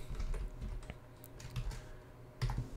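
Fingers tap on a computer keyboard while entering a spreadsheet formula: soft, close clicks in short uneven bursts with brief pauses, quiet and alone against a low room hum.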